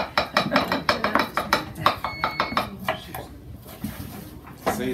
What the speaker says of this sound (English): It's a lot of chopping.